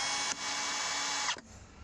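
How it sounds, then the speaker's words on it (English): Small power drill boring a pilot hole for a transparent water tank hatch on a boat, a steady high whine lasting about a second before it spins down and stops. "Then I'm going to use the small drill to pilot it."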